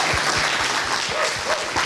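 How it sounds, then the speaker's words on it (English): A round of applause at a junior class forum, steady and fairly loud, with scattered low thumps and a brief voice-like tone partway through. "how about a round of applause for these guys?"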